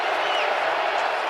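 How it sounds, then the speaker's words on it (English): A football stadium crowd at a Bears at Lions game, with a steady, dense roar of cheering from fans urging the Lions defense, continuous and fairly loud throughout. "Crowd trying to, once again, urge this Lions defense to make a play"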